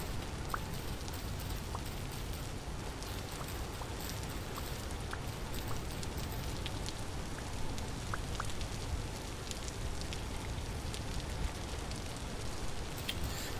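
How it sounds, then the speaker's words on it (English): Steady rain in the Vintage Story video game, a dense even hiss pattering without pause, with scattered faint drips and ticks scattered over the wash. "The rain is a nice chill sound right now."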